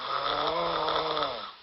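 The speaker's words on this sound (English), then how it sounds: "Oh my god, am I snoring at night?" Snoring replayed from an overnight sleep recording: one long, rough, droning breath with a raspy buzzing tone, steady and fairly loud throughout, ending abruptly with a brief click.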